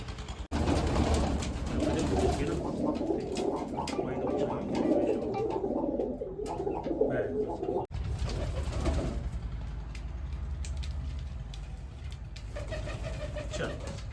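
Pigeons coo softly and repeatedly over a low engine rumble, with some faint background chatter.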